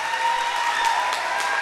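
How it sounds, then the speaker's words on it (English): Audience applause at a youth group gathering, a brief dense burst of steady clapping heard on its own without talk. "So, give a big round of applause to Sean and Wendy Grisham."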